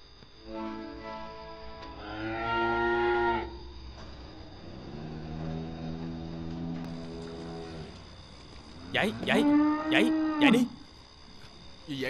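Cattle low repeatedly in a Vietnamese drama scene where a cow is about to give birth: a long moo near the start, a lower drawn-out call in the middle, and a loud final bellow near the end.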